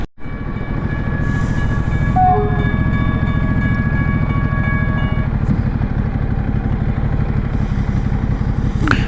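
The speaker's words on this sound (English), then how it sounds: "here you have one of those rare things where you see a train moving and you see how old they are" An old train passes on a road between Brasov and Odorheiu Secuiesc in Romania, a loud continuous rumble and rattle with a sustained horn blast over the first half, heard from close by.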